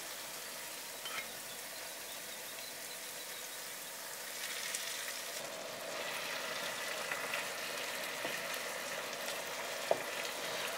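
Salmon fillets frying in a pan with spices for a mango salmon dish, giving a quiet, steady sizzle that crackles on alone at low level, with a few faint clicks and taps.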